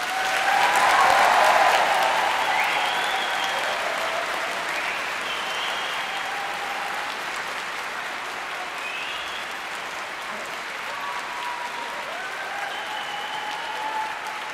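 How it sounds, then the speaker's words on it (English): Sustained applause from a large hall audience honoring graduates at an Open University degree ceremony in Manchester, loudest at the start and then settling into steady, dense clapping for about fifteen seconds. "let's start today's ceremony by giving our amazing graduates a huge round of applause."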